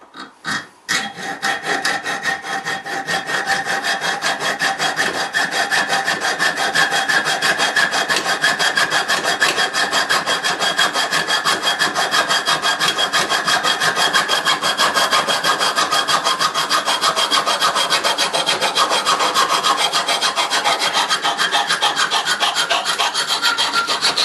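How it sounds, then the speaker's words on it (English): A junior hacksaw cuts through aluminium tubing with a steady, fast back-and-forth rasp. The strokes are close and loud, begin after a brief start and run evenly for over twenty seconds with no talk. "now using this little junior hacksaw, we shall cut through this aluminium tubing"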